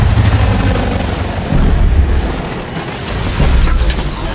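A grenade blast in the Gears 5 video game, a loud sustained low rumble that surges in waves over several seconds, layered with dense battle noise.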